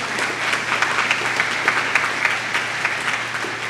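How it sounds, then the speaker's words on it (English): An audience at the Kentucky Bourbon Hall of Fame ceremony claps steadily throughout, a dense even patter of many hands with no pauses. "Clap at that."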